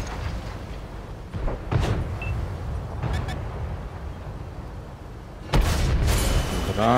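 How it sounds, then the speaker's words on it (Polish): A tank explodes when destroyed in World of Tanks, one sudden loud booming blast near the end over lower rumbling battle sounds and earlier distant thuds, with someone talking during parts of it. "Fajny jest ten dźwięk, jak wybucha."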